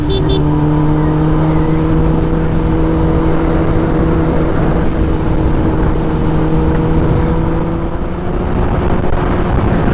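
A Kawasaki ZX10R sport motorcycle cruising on a highway on the outskirts of Madurai, its engine droning steadily and loudly under heavy wind rush for the whole stretch, with no talking.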